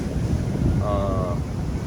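Waves wash over a seawall in front of a property in Antique, Philippines, a continuous loud rushing surge mixed with wind buffeting the microphone, with a brief tonal whine in the middle.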